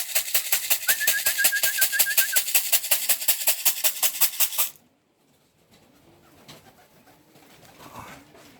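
Racing pigeons arriving back at their home loft after a 245 km race from Dizy-le-Gros, France: a rapid, rhythmic run of pigeon sounds for a few seconds, then near-quiet with faint background noise.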